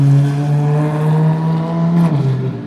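Ferrari F430 fitted with a straight-pipe, silencer-free exhaust, loud and close, a sustained raw engine drone whose pitch holds steady then dips slightly near the end, heard alone.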